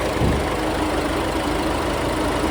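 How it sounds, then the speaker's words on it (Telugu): A steady, low engine idle from a 2018 Ford EcoSport Titanium rumbles evenly throughout, close by and constant, with no voices or changes in pitch. "ఇంజన్ చూడొచ్చు ఇంజన్ మాత్రం చాలా సైలెంట్ ఉంది"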